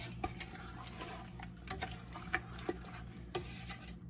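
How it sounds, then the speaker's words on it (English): Strawberry jam and sugar being stirred continuously in a pot with a spoon, giving soft, steady scraping and occasional light taps against the pot, quiet and close with no talking. "I just continuously stir this until it comes to a boil, just so the sugar doesn't stick."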